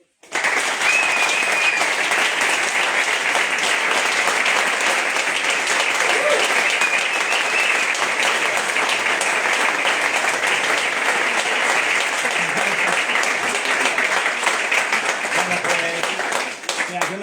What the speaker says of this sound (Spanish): un fuerte aplauso para Miquel y para Mabel.